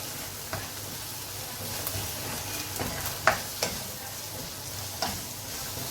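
Pasta sauce with white and black pepper stirred in a pan makes a continuous sizzle and frying hiss, with several sharp spoon knocks against the pan, close and fairly loud, and no talking.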